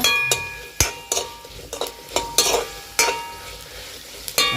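Mustard seeds and fenugreek spluttering in hot oil for a Jaffna-style squid curry, with a steady sizzle broken by sharp irregular pops and clinks of a spoon against the pan, close and fairly loud, no voices.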